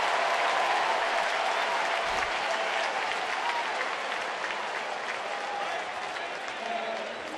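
Crowd at a Giants versus Nationals playoff baseball game in the stadium, sustained loud cheering and clapping filling the whole stretch, with an announcer's voice faintly mixed in.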